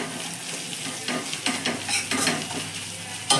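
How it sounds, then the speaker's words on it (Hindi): Green chillies fry in a pan over a low flame while being stirred, producing a soft continuous sizzle broken by repeated scraping strokes of a spatula, close and moderately loud. "हरी मिर्च हल्का सा फ्राई हो जाएगा इसमें"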